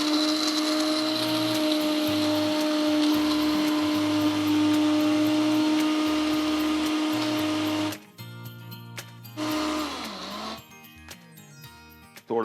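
An electric grinder whirs loudly as it finely grinds a red chilli spice mix, a steady high motor whine that cuts out near the end, then restarts in short pulses.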